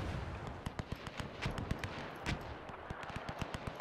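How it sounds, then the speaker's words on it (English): Rapid gunfire from the WW1 video game Between Empires, a dense stream of sharp cracks and bursts in an irregular rhythm, fairly loud and continuous with no voices over it. "Even now, when we're actually putting down substantial fire on them."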